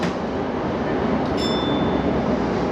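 A JR Ome Line train pulling away from Musashi-Itsukaichi station, heard from inside the carriage as a steady, loud broadband rumble with a brief high chime-like tone in the middle.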